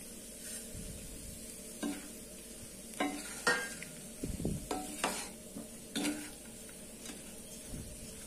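A spoon stirs powdered moong dal into a sizzling wedding-style kara curry in a pan, soft scraping strokes and occasional metallic clinks at irregular intervals over a low, steady frying hiss, fairly quiet and close.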